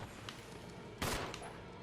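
A gunshot in the video game Resident Evil HD, one sharp, moderately loud burst near the middle of the clip with a short decay, set against faint game ambience.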